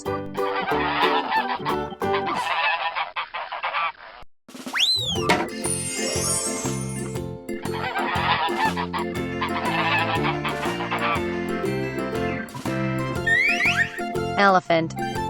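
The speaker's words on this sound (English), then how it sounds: "Goose." Toy-style goose honks sound repeatedly amid bright musical jingles from a children's animal-sounds lesson, loud and close, with short musical breaks between calls.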